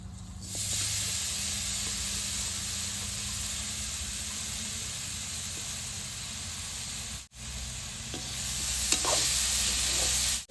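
Grated coconut mixed with sugar fries in a pan, giving a steady close sizzle and hiss that breaks off briefly partway through and resumes, with faint stirring scrapes.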